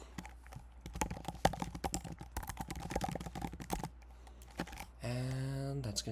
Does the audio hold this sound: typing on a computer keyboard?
yes